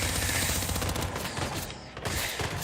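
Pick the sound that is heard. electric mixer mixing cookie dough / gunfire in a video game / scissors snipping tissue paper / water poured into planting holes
gunfire in a video game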